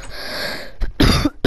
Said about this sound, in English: Man, I hate coughing.